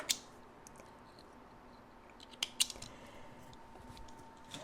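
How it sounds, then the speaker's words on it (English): Scissors trim loose threads off a sewing piece, giving a few faint, sharp snips near the start and a small cluster midway, otherwise a quiet room hiss. "let's go back and cut these extra threads off"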